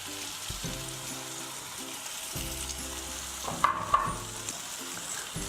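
Capsicum frying in a pan for masala pasta, a steady close sizzle with occasional stirring scrapes and a couple of sharper clinks midway.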